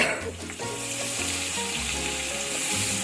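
Two medium onions frying in a pan for mater pulao, a steady close sizzle with hiss running throughout and light stirring, with low tonal hum underneath and no talk.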